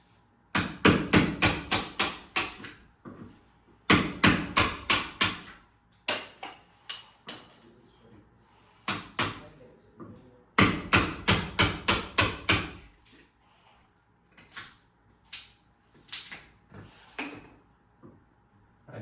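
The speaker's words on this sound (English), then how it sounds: "take a hammer and a chisel" Hammer strikes on a chisel trimming log home window trim, sharp wooden knocks in quick bursts of four to eight blows, with short pauses between groups and a scattering of lighter single taps toward the end.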